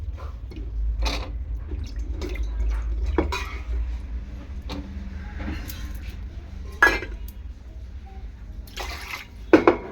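Potatoes, eggplant and fish are washed in a basin of water, with sloshing and dripping and scattered clinks of bowls and utensils knocking together, ending in a couple of sharper knocks, close by and without speech.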